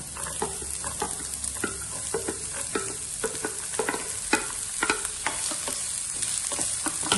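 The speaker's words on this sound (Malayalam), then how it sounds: "എണ്ണ നന്നായി ചൂടായി വരുമ്പോൾ നമ്മൾ എടുത്തു വെച്ചിരിക്കുന്ന ഇഞ്ചിയും വെളുത്തുള്ളിയും ചേർത്ത് കൊടുക്കാം ഈ കൂടെ തന്നെ സബോള ചേർത്ത് കൊടുക്കാം" Ginger, garlic and onion frying in hot oil for a Malabar chatti parotta, a steady sizzle broken by regular scraping strokes of a spoon stirring in the pan, close and fairly loud.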